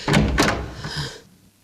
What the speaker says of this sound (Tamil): கதவு சாத்திட்டாங்க